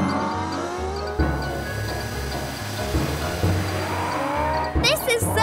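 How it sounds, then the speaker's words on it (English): Cartoon race car driving with continuous engine tone and tire skidding, loud and steady with a burst of squealing near the end, under background music and possible voices. "Mila, morph into a race car!"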